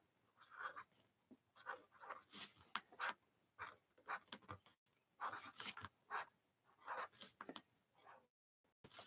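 Pen scratching across paper in a dos-a-dos art journal, written sideways, in quiet close strokes with short pauses between words, alone and faint.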